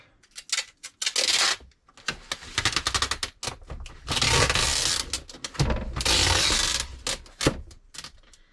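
Repeated bursts of loud, scratchy ripping as eBay-branded packing tape is pulled off a roll, several long pulls separated by short pauses and clicks.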